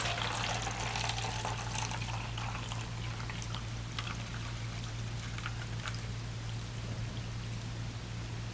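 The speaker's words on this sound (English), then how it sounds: "I'm going to be pouring in some boiling hot water." Boiling hot water, about two cups, poured steadily into a container of a thermoelectric generator kit with an aluminum bracket, a continuous close splashing pour under a constant low hum.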